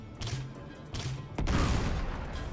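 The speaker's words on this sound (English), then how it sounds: "Can't believe I wasted a grenade launcher shot there" A grenade launcher fires and detonates in Uncharted 3 combat, with sharp cracks of gunfire early on and then a heavy blast that rumbles and fades.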